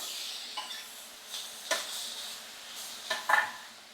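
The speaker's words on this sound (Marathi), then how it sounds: "टोमॅटो परतवून घेतलेले आहेत." Finely chopped tomatoes are sautéed in a pan, with a faint sizzle under scattered spatula scrapes and several sharp metallic clinks close by, without talk.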